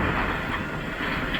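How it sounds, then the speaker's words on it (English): An express passenger train passing a station, heard as a steady, loud rumbling roar with a faint rhythmic rattle of the cars rolling by. "here comes an express train"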